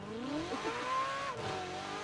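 A 2018 Ferrari Portofino in the racing game Forza Horizon 4 gives a short, close engine rev, its pitch climbing smoothly and then easing off, with a faint tyre-squeal edge and no talking.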